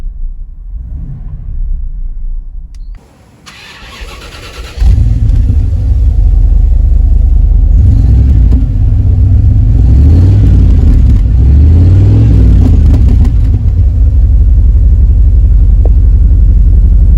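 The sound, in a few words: Bentley Turbo R engine starting and running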